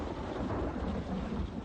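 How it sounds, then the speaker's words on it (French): Thunder from a storm about one kilometre away rolls as a continuous deep, loud rumble with no pause. "l'orage n'est qu'à 1 kilomètre de distance"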